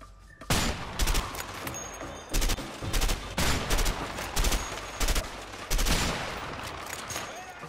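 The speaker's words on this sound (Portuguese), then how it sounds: "Mano, sabe essa troca de tiro?" Rapid bursts of gunfire in a firefight from the video game A Way Out, several loud volleys spaced over a few seconds, with faint voices underneath.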